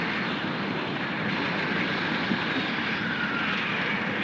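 Two airplanes pass overhead in a 1934 film, a continuous loud propeller-engine drone holding steady throughout with no voices.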